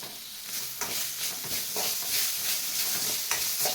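Finely chopped tomato goes into a hot oiled pan for a brinjal and potato curry, setting off a loud, continuous close sizzle and hiss with scraping stirs through it.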